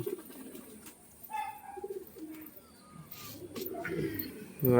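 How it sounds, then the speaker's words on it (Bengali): Pigeons kept in a loft coo softly in short low bursts against a quiet room background, with faint rustling between the calls. "ভালো পায়রা তো পায়রা"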